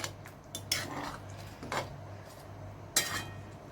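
A spoon stirring raw banana vegetable in a pan, with several sharp metal clinks against the pan at irregular intervals over a low background hum.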